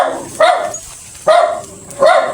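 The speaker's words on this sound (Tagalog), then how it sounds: "Ang meron lang dito guys, maraming aso." Dogs bark near a pig pen where an old man lives, three clear, evenly spaced barks close by, with no talking.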